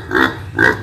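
A pig on a Vietnamese farm gives two close, loud nasal grunts, each lasting about a quarter second with a short pause between them.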